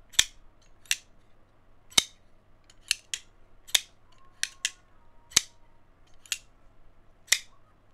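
A Remette Peregrine Falcon liner lock knife with a pivot button being flipped open and shut, about a dozen sharp, crisp metallic clicks at uneven intervals, close and loud against a quiet background.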